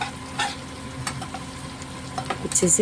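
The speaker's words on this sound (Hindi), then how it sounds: "हल्का हल्का बस गोल्डन पिंकिश कलर आ जाए तब तक इसको फ्राई करेंगे" Spices frying in oil in a pan for an Odia prawn and potato fry, with a soft sizzle broken by a few sharp spoon clinks and scrapes and a brief spoken word over it.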